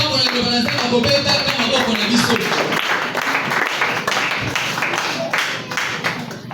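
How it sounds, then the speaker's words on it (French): Church congregation at a Sunday service applauding and cheering after the sermon reading, a loud continuous wash of clapping with shouts and musical tones underneath. "Bénissons la parole par nos acclamations."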